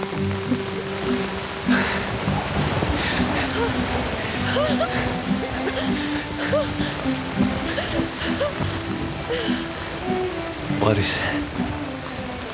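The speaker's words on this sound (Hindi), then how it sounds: "बारिश" Steady rain falls on a surface with a constant hiss, while faint voices murmur in the background throughout.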